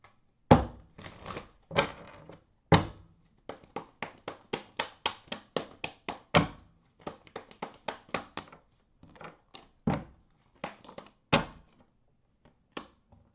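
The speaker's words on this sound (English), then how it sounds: "Just give this a quick shuffle again." A deck of cards gets a quick shuffle by hand, with a run of crisp riffling bursts and taps in irregular rhythm, close and fairly quiet with no talking.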